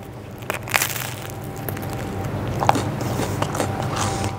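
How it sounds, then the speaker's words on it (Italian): Crisp bites into a slice of homemade Roman-style pan pizza made with biga, giving a series of close, loud crunching and crackling chews with no talking. "Sentiamo un po' se fa crunch."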